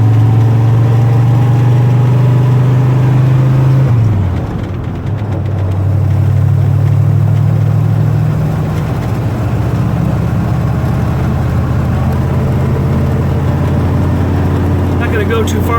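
A 1978 Ford F150 pickup truck's engine runs at a steady mid-pitched drone, briefly dipping and then settling back in as it shifts gears with slight chatter, close and continuous.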